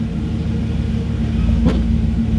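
A 1995 Pontiac Firehawk, revived after sitting more than ten years, idles and rolls off in first gear with a steady, close engine rumble and low exhaust drone throughout and no talking.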